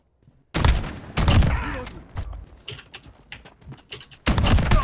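Shotgun blasts in the Modern Warfare beta video game boom out in loud, sharp bursts, one right after another, between quieter stretches of game noise.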